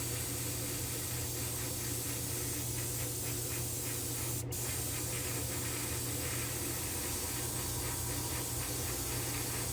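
Red spray paint hisses in a spray booth in a continuous loud spray with brief pulses, close up and without talk.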